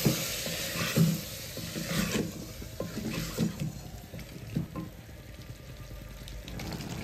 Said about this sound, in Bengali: বাটা মশলাটা দিয়ে একটু ভালো করে কষে মাংসটা সিদ্ধ করে নেব